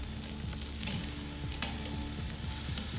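A Wagyu ribeye sizzles on a Weber grill just after flipping, a steady crackling fat sizzle with small pops, close and continuous.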